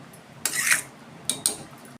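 Stirring tamarind water into a pot of green turkey berry kuzhambu, a few sharp metallic clinks and scrapes of a spoon against the pot, two brief clusters separated by a quiet pause.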